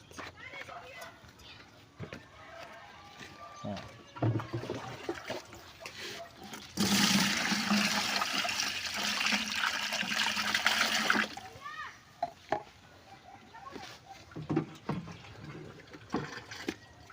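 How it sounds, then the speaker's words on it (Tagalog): A bucket of water poured into a fertilizer mix for cucumber plants on a farm, a loud steady gushing splash lasting about four seconds, with talk before and after. "Tapos isang baldeng tubig."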